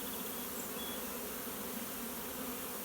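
A honey bee swarm buzzing inside a swarm trapping box, a dense steady hum from many bees, continuous and fairly quiet, with no talk.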